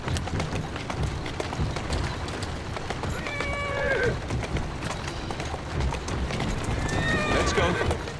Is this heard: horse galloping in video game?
yes